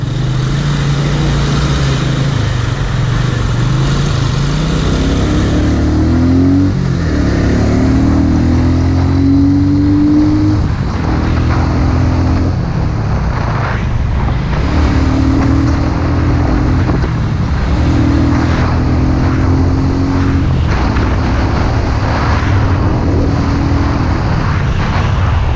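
A Royal Enfield 650cc motorcycle, a Continental GT650 or Interceptor 650, is ridden on a test drive, its engine rising and falling through repeated revs and gear changes amid loud wind noise.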